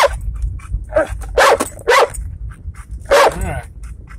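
A black Labrador barks close by in a handful of sharp, loud bursts spaced unevenly, with softer yips and whimpers between them and a voice faintly in the background.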